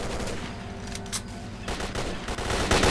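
Gunfire from a firefight in the video game S.T.A.L.K.E.R., with rapid overlapping bursts of shots, some distant and some closer, building louder toward the end.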